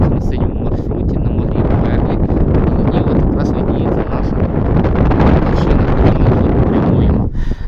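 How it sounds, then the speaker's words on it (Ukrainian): Loud, roaring gusty mountain wind on the climb to Hoverla in October buffets the microphone continuously, with surging gusts and a constant broadband rush throughout. "Друзі, вітер доволі таки поривчастий."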